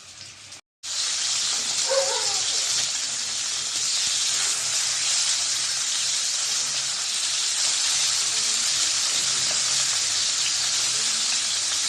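Poa fish coated in turmeric and chili frying in a pan, a loud steady sizzle and hiss of hot oil that starts abruptly and runs unbroken.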